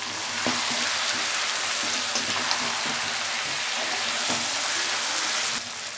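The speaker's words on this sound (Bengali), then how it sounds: "এবার আমি জল দিয়ে দেবো।" Water goes into a pan of sizzling, well-fried chicken curry, raising a loud, steady hiss and crackle of frying with a few stirring knocks, then easing slightly at the end.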